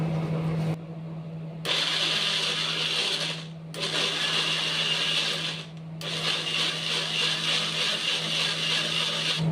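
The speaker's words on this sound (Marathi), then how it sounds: "हा जो टोमॅटो आहे ना त्याची सालं काढून मी आता त्याला ग्राइंड करणार आहे" An electric mixer grinder grinds peeled tomatoes in loud, steady bursts, running in three stretches separated by brief pauses, with a constant motor hum throughout.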